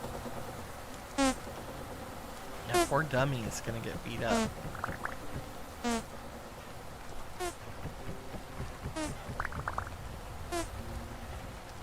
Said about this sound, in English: Hi, bees! Ooh, they are raring to go.